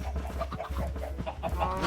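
Minecraft chickens clucking in a steady run of short, repeated calls over a low ambient hum, close and fairly loud, with no talk.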